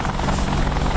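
Apache attack helicopter rotor in the combat flight simulator DCS, a steady dense whirring thrum with low rotor pulses, loud and continuous throughout without talk.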